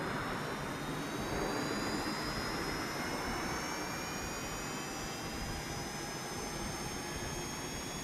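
The APU of a Cessna Citation X in the X-Plane 12 flight simulator spools up, a steady jet whine with rising high-pitched tones climbing over a broad rushing roar, even and continuous with no talk.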